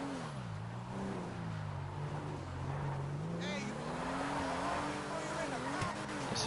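A drift car in GTA Online on PS5, its engine droning and rising and falling in pitch as it drives, carried steadily along with a voice speaking over it.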